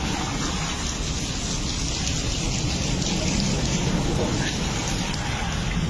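Heavy rain with hail pouring down in Gujar Khan, a steady, dense roar of drumming water and pelting on surfaces that runs unbroken and fairly loud throughout.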